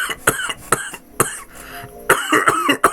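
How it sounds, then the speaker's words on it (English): A person coughs repeatedly at close range, several sharp, harsh bursts in an irregular cluster with a short pause in the middle. "I have a bit of a cough."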